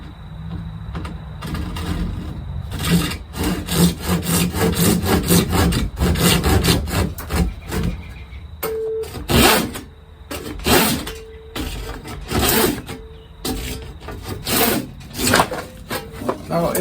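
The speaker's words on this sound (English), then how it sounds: "I don't have one of those, so I just use a saw." A hand saw cuts through PVC pipe in quick, rhythmic back-and-forth strokes, loud and close, pausing briefly midway before resuming in shorter bursts.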